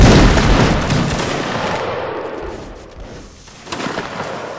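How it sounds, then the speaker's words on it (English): Musket volley fire during a Napoleonic Wars video game line battle, a dense, loud crackle of many shots firing almost together, then a brief lull before another ragged burst of gunfire. "Volley fire."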